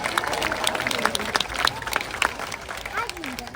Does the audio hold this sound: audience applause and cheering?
yes